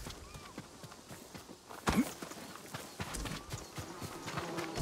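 Horse hooves clip-clop in the video game Ghost of Tsushima, a quiet, uneven run of hoof thuds over a low game backdrop, with one louder thump partway through.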